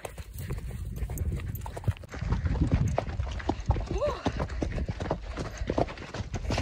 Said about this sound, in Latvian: Vienkārši zirgu baršs.